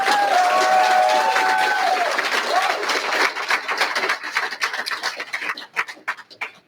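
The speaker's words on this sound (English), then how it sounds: "we will ask that you refrain from applause for the rest of the evening until the end" Audience applause at a Dodge County sheriff debate, a dense steady clapping from a crowd that thins toward the end into scattered claps, with a brief voice early on.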